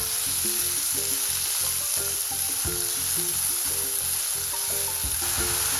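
Finely chopped medium onions frying in oil with cumin and green cardamom, a loud continuous sizzle with rhythmic stirring scrapes running through it.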